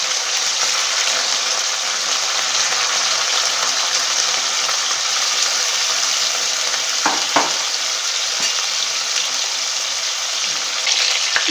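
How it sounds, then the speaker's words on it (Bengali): Chicken pieces for a yogurt chicken dish fry in a pan with a steady, loud sizzle throughout, with a couple of brief stirring clatters partway through. "সমস্ত মাংসকে আমি এইভাবে ভেজে নেব।"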